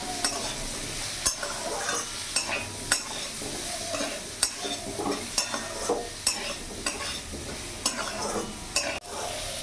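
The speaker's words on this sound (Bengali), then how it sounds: "ভালো করে নাড়াচাড়া করে নেব।" Turmeric and cumin powder with vegetables being stirred in a hot frying pan, a steady sizzle broken by repeated sharp scrapes and taps of the spoon against the pan, close and fairly loud with no talking.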